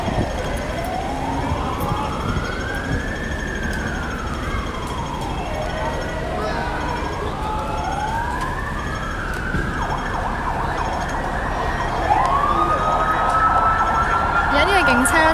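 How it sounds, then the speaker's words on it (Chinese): A police car siren wails in long rising and falling sweeps, then shifts to a faster pattern, at a street protest in Sham Shui Po, Hong Kong. Continuous street and crowd noise sits underneath, and the siren stays moderately distant throughout. "而家呢个警车咧就慢慢向翻原南昌方向"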